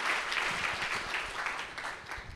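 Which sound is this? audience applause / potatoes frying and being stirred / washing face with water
audience applause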